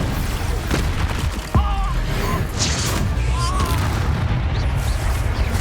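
Confringo blasting curse going off in Hogwarts Legacy, a sharp low boom around the middle, set against a dense, constant game soundscape with spell effects and battle noise.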